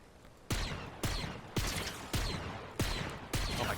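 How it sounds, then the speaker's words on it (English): Six evenly spaced shotgun blasts from Fortnite play, each a sharp, loud crack with a short decaying tail, roughly half a second apart in a steady rhythm. "Oh, that's a shotgun."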